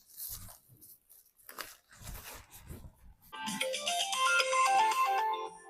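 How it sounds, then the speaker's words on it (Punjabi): After some rustling and scattered knocks, a melodic phone ringtone starts up and plays loudly for a couple of seconds. "ਮੰਨੇ ਦਾ ਫੋਨ ਆ ਗਈ"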